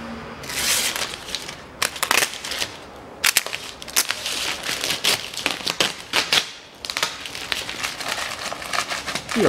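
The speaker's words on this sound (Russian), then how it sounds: "И опускаем его по салазкам. Все, оно у нас защелкнулось." Glass of the front left door on a Land Rover Discovery 3 being lowered along its rails and snapping into place during a lock replacement, heard as a dense run of loud, close clicks, scrapes and rattles with short bursts.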